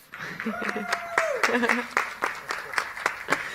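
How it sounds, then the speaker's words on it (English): Applause and scattered clapping from a crowd at a sports media conference forum, with a voice speaking over it as the clapping continues in uneven bursts. "I'm going to introduce our moderator again, DILMEN, with an applause, guys"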